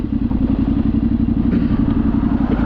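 A 2024 Yamaha Tenere 700 fitted with an OEM quick shifter rumbles close and loud as it pulls over, its engine giving a steady, throbbing low pulse with some clattering mixed in.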